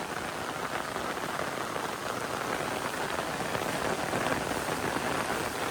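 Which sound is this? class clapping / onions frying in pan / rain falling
rain falling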